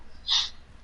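A single sharp sneeze bursts out close by, short and breathy, in a noisy gaming session with men chatting over online Call of Duty Modern Warfare play on PS4.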